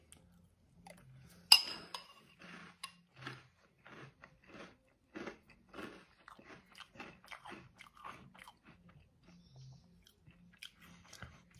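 Crunchy Back to the Future cereal, a Nesquik-style chocolate cereal, eaten close up: a sharp first bite followed by a long series of quiet crunching chews, with no talking.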